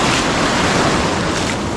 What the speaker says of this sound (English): Never know when a big wave is coming.